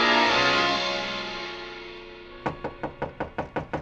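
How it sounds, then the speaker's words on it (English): A radio drama effect of a hotel room door being knocked on: a sustained tone fades out, then about seven sharp, evenly spaced knocks sound close and clear. "The knock surprised me."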